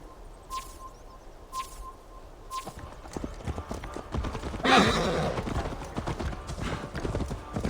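Hooves clip-clop at a steady pace while a horse whinnies in Assassin's Creed Valhalla, with a few sharp metallic clinks at the start and a busy outdoor background.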